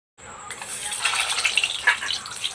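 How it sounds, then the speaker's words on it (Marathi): Eggs frying in a pan of hot oil give a steady close crackling sizzle with sharper spitting pops, starting abruptly after a brief silent moment. "मम्मी ना आता पहिले अंडे फ्राय करणार आहे, म्हणजे तेलमध्ये पूर्ण बॉईल होऊ देणार आहे"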